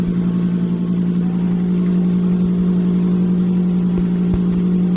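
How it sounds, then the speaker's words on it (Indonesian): Toyota Avanza engine idling after being started following an oil and filter change, a loud steady low hum with a strong constant drone and faint ticking, no talk. "Saya coba starter dulu supaya olinya bersirkulasi dengan baik."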